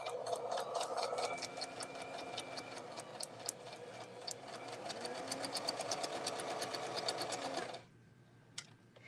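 A sewing machine stitching through paper piecing runs steadily in a fast, even mechanical chatter for several seconds, then stops abruptly, leaving a faint hum and a single small click; fairly close and moderately quiet, with no talking.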